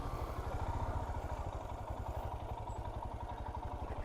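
A motorcycle engine idles with a fast, even putter on an off-road trail in Kambakonda Wildlife Sanctuary, heard at a distance and fairly quiet throughout.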